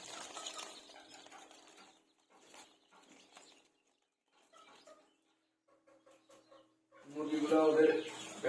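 Chickens cluck in short, scattered bursts at a poultry coop, moderately close, with a louder, busier flurry near the end.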